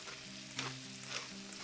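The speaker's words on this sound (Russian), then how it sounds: "Отправляем паприку в сковородку к луку," Onions frying in a pan with paprika, salt and ground black pepper, sizzling steadily up close with a couple of brief stirring scrapes.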